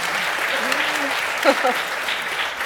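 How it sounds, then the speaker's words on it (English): An audience at a business conference debate gives steady, continuous applause that fills the hall, with a brief voice rising over it midway. "Doesn't she get a round of applause somewhere along the line?"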